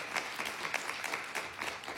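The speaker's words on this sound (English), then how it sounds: "Give Hagar a round of applause," An audience claps for a speaker at an event, a fairly soft, steady patter of hands lasting a couple of seconds with no voices on top.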